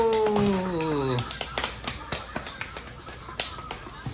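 A church winter-camp group gives a rhythmic cheer clap after a Bible verse recitation: a voice trails off, then a run of sharp, evenly spaced claps in a quick pattern.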